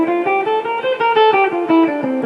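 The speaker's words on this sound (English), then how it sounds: "So here's C Mixolydian mode" A guitar plays a C Mixolydian mode scale in fifth position, with clear single picked notes stepping in an even rhythm, close and alone.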